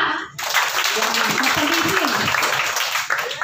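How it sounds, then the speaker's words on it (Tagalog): A congregation at a midweek church service breaks into applause that starts abruptly and holds as a dense, even roar of clapping, with a voice briefly audible beneath it. "pumalakpak"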